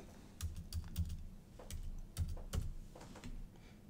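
Keys tapped on a computer keyboard to enter a six-digit authentication code: a handful of separate, fairly soft clicks spaced irregularly and heard close up in a quiet room.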